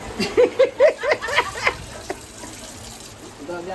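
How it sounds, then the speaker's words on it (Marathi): Running water from a kitchen tap as ingredients are rinsed for chicken biryani, a steady close wash that follows a few brief voiced sounds like laughter at the start. "ते धुणं पण इम्पॉर्टंट असतं ना, धुवून काढणं."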